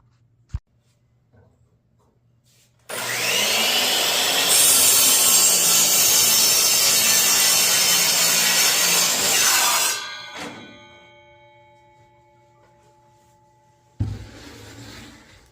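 A saw cuts 4x4 wood pieces for a bathroom vanity, a loud, steady whining bite lasting about seven seconds before spinning down, followed by a brief knock and another short burst of the motor.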